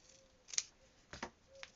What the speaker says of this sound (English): If I trim a little tiny bit off the end,